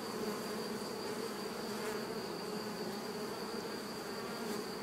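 Honeybees buzzing on a hive frame from a swarm colony, a dense steady hum with a sustained high whine running throughout, close and even.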